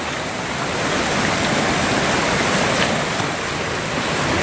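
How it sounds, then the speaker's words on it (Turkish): A mountain stream in the French Alps rushes steadily over rocks, a dense, continuous broadband roar of flowing water that stays close and loud throughout with no voices. "15 dakikadır bu derenin içindeyim."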